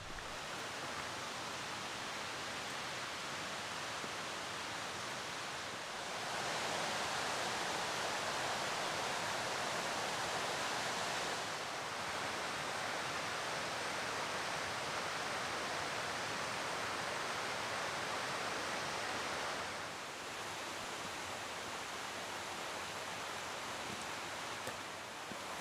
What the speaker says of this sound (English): you get to walk right alongside that beast of a waterfall